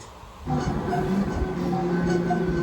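A car engine hums and revs in the racing game Forza Horizon on Xbox, a steady mid-level drone with shifting tones, played through a television speaker after a quiet start.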